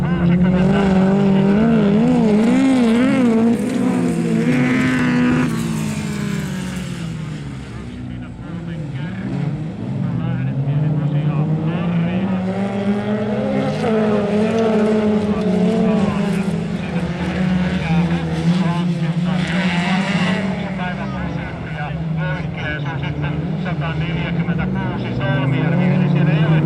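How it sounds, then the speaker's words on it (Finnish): Race cars at a Finnish auto racing event (Ysitien Auto JM, Vilppula), four cars lapping the track together; loud, continuous engine drone with rising and falling pitch as they pass, commentary talk running over it throughout. "näin tämä nelikkö sitten kiertää rataa"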